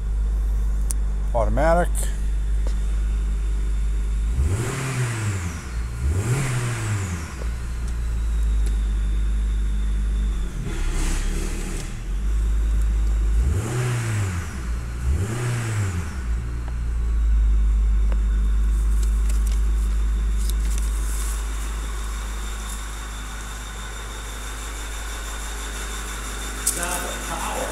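A 2018 Honda HR-V with 22,000 miles starts and idles with a steady low rumble, rising through four short revs in two pairs before settling back, while someone speaks over it.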